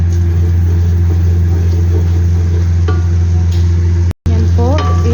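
Butter hitting hot oil left over from frying chicken crackles and sizzles close by, with scraping stirring noises over a loud, constant low hum and one brief dropout near the end.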